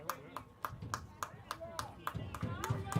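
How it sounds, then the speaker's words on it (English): Scattered hand claps from a crowd at a Catholic League softball championship game, applauding an injured player who gets back up, with steady clapping over crowd chatter and voices talking. "Getting a round of applause from her crowd."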